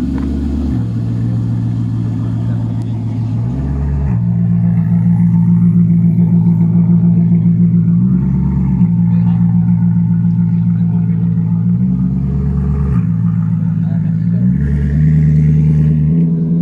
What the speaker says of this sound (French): On va même l'entendre démarrer. V8 Ferrari.